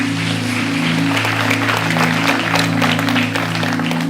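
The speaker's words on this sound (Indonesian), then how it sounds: "Berikan tepuk tangan kita untuk Tuhan kita" A church congregation claps in praise during an Indonesian sermon, a continuous wash of applause over a sustained musical drone from keyboard or organ chords.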